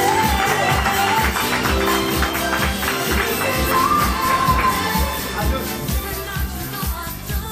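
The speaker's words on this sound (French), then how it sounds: "il l'a fait, c'est bon, on l'applaudit très fort." A crowd of wedding guests cheers and claps for the groom, a loud lively mix of applause, shouts and chatter that tapers slightly toward the end.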